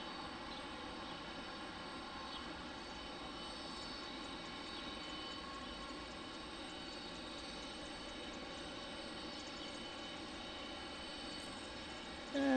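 An Airbus A319 airliner at Detroit Metro Wayne airport gives a faint, distant, steady engine drone that holds evenly throughout, with no voices.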